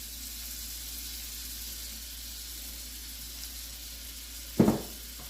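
Butter and olive oil sizzle steadily in a preheated cast iron skillet, a soft continuous hiss at moderate level, with one brief louder crackle near the end.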